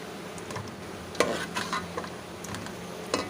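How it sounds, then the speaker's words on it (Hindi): Chicken pieces, a kilogram, browning in a pot for chicken masala biryani, with a low steady sizzle under a few sharp scrapes and clinks of a spoon stirring against the metal. "ये 1 केजी चिकन है जो हम इसमें डाल देंगे। और इसको भी अच्छी तरह से भून लेंगे।"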